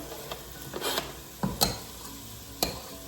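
Onion dropped into a hot pan sizzles softly while a utensil stirs it, giving a few distinct scraping and tapping strokes over a low, steady fry; no speech.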